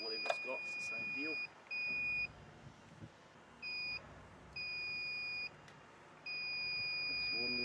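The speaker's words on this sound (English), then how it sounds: "Whether your dip probe beeps or has a light or a sensor" A groundwater water level dip probe gives a series of high, steady beeps of uneven length, some short and some long, over faint background noise and brief talking.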